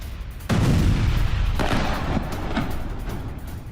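Heavy explosions from strikes in southwest Iran, a sudden loud boom with a long rumbling roar, followed by further distant blasts over continuous low rumble.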